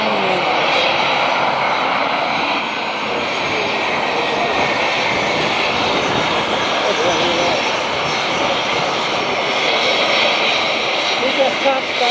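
A private jet taxies on an airport tarmac at Camarillo, its engines making a loud, steady roar that fills the whole stretch with no breaks, while people talk over it now and then.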